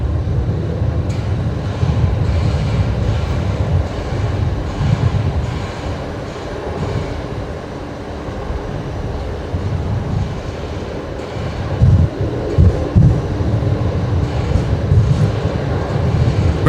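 A Fokker 70 jet landing on runway 19 left at Brisbane Airport, a loud continuous low roar and rumble of engines and rollout heard from nearby, steady throughout with slight surges, no talk.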